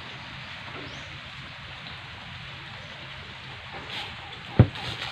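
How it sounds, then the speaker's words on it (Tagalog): Steady rain falls as an even, soft hiss that continues throughout, with a single sharp knock near the end. "Nag-ulan na po."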